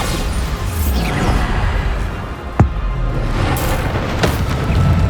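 A Bombarda explosion spell in Hogwarts Legacy on PS5, a dense roaring game soundscape with a sharp impact burst near the middle and rumbling booms around it, loud and continuous.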